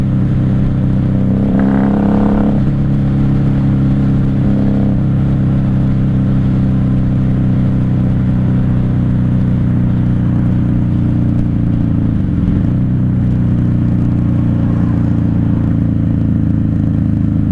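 A 1994 Honda Magna 750 (VF750C) motorcycle engine runs steadily at idle, loud and close, with a deep continuous rumble and a few faint clanks and passing sounds.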